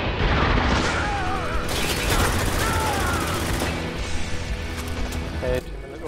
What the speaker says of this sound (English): Whoa, who's shooting me?